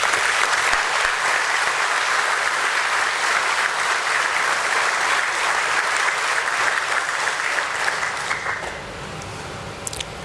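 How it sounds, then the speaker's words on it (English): An audience at a foundation day celebration for BSE breaks into loud, sustained applause. The dense clapping fades slightly toward the end. "I would like all of you to applaud BSE for that."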